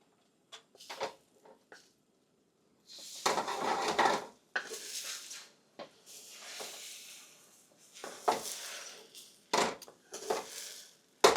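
Eggs swirled around a well-preheated wok with a utensil, giving irregular clattering scrapes and knocks of metal on metal, spaced bursts of a second or so with quiet gaps, close and moderately loud with no talking.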